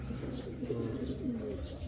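Soft, low pigeon cooing from birds in a loft repeats in gentle rolling phrases, close by and steady, with no talking.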